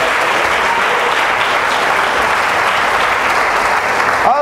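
A church congregation at a Foursquare (Quadrangular) service applauds steadily and loudly, with a dense, even wash of many hands clapping throughout and no gaps.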